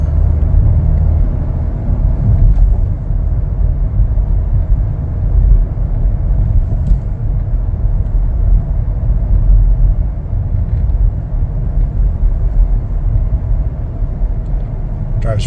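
A 2025 Chevrolet Blazer RS with a V6 on the move, giving a steady, even low cabin rumble of engine and road noise throughout with no sharp events.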